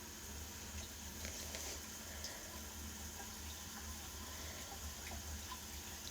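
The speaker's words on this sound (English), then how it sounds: "I know you guys can probably hear the water." A household tap runs steadily on a cold morning, giving a continuous low hiss of flowing water into a sink that holds at a faint, even level throughout, with no one talking.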